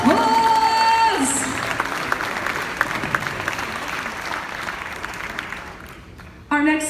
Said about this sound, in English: Let's give all those donors a huge round of applause!